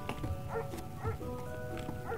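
A dog in a Santa-themed video game gives soft, repeated whimpers and yips in short bursts over a steady low background hum, faint and fairly close.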